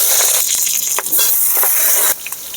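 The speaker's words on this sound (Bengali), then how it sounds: "তেল গরম হয়ে গেছে, এবারে বেগুন দিয়ে দেব।" Eggplant pieces hit hot oil in a wok, giving a bright, close sizzle and crackle with brief spattering bursts, loud and steady for a couple of seconds.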